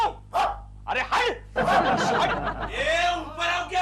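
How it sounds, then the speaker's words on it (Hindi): Several street dogs in an Indian neighbourhood bark repeatedly in loud, overlapping bursts, mixed with excited voices and chuckling during a comedy scene. "अब गली के सारे कुत्ते भौंकने लगे हैं।"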